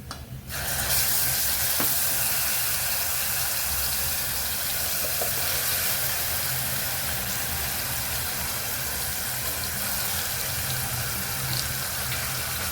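Ground onion paste sautéing in hot oil with cumin seeds for dal makhani, a steady broadband sizzle that runs continuously at close range after a brief quiet start, with no talking.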